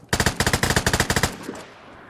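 Video game Vigor gunfire: a rapid automatic burst of about fifteen sharp, loud shots in quick even rhythm, ending abruptly into quiet background.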